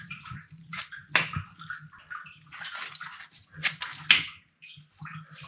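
Water sloshing and splashing through thick, unstable mud in a wide, flooded work area, coming as uneven bursts of wet churning and slaps close by, with a low rumble underneath.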